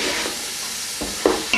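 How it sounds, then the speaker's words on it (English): Minced beef and onion sizzle steadily in hot oil for chilli con carne, with a few soft scraping stirs of a spoon through the pan toward the end. "Just make sure you keep stirring it so it's browning on all sides"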